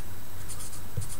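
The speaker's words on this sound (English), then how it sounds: "we start to write the tangent" A pen or marker scratches across a writing surface as a tangent equation is written out for a trigonometry word problem. The strokes are short, faint and close, with no talking.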